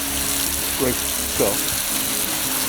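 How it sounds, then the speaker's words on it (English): Water spraying steadily over a car body after degreasing and sanding, a broad hiss of running water with brief splashing bursts, close by and continuous, with a voice briefly audible under it. "And as you see now, we're rinsing it real good."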